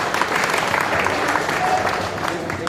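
An audience on stage-side applauds Jayesh Bhai at a mobile technicians' union gathering, a dense, steady wash of clapping from many hands, loud and close, holding evenly throughout.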